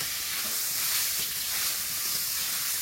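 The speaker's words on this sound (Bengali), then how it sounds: "মাছটা কড়াই দিয়ে দেবো" Fish frying in a kadai in a Sundarban home kitchen gives a steady, fairly loud sizzling hiss that holds without a break for the whole moment, with no voices over it.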